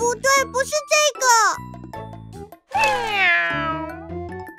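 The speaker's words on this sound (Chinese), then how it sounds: "那是小猫的叫声。" A cartoon cat in a children's animal-sound game gives several loud, drawn-out meows, one rising then sliding down. Short chirpy vocal bits sit between them.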